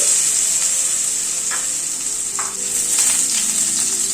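Boiled potato pieces frying in oil in a pan over low flame, a continuous bright sizzle close up, with a few soft spatula scrapes and stirs through it.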